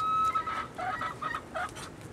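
Hens cluck and fuss over their egg-laying spot in a backyard flock, with repeated short nasal clucks and squawks nearby against a quiet outdoor background.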